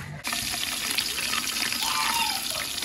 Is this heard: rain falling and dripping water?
yes